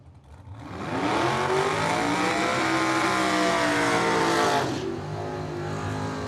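Chevelle drag car at Cordova Dragway roars hard down the strip, a loud, sustained engine howl climbing steadily in pitch through the gears before cutting off abruptly and dropping to a lower rumble.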